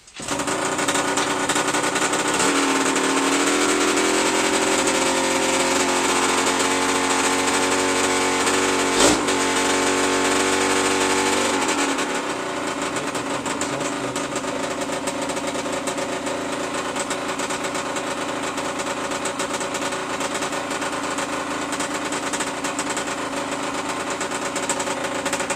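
A 2016 Derbi Senda X-Treme DRD SM 50 engine runs steadily and loudly on its first start, a buzzing small-displacement idle that holds high for about twelve seconds before settling to a slightly lower, rougher idle.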